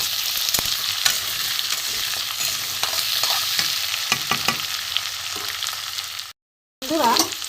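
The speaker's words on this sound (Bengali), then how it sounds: "আলুটা আমি একটু ভালো করে ভেজে নেব।" Cut potatoes fry in oil in a pan under a constant close sizzle, with repeated scraping and clacking stir strokes, a brief silent gap, then more frying.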